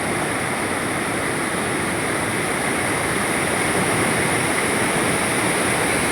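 Water from a village lake near Girjani rushes in a dense, continuous broadband roar, loud and unbroken with no voices.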